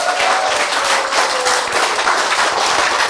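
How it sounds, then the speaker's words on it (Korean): Loud, dense audience applause in a lecture hall, many hands clapping close and continuous for a few seconds. "어떻게 한번 박수 쳐보자"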